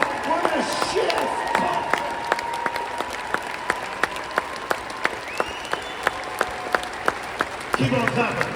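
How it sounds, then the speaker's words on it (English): A worship-service crowd keeps up steady rhythmic clapping in unison, with sharp regular beats under ongoing chatter and a speaker's voice calling over the room. "Keep on clapping."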